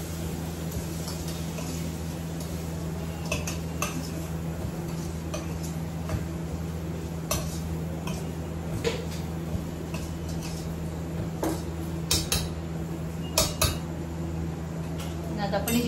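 Turmeric, red chili powder, garam masala and coriander powder are sautéed in a pan, with frequent light clinks and scrapes of a utensil against the pan over a steady low hum.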